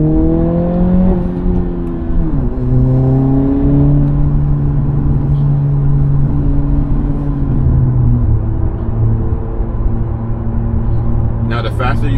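An Acura Integra fitted with a Remark exhaust drones steadily with rising and falling engine tones, burbling between gear shifts, loud and close throughout.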